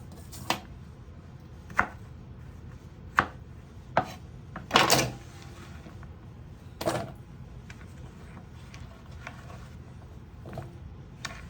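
A bottle gourd cut into small pieces with a knife, producing sharp, isolated chops at irregular intervals, close and fairly clear over a quiet room, with no speech.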